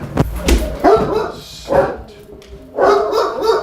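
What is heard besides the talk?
dogs barking in crates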